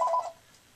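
A phone in the Dragon Ball Z Budokai video game gives a short electronic dialing or ringing tone, one steady beep lasting about a quarter second before it cuts off, heard alone.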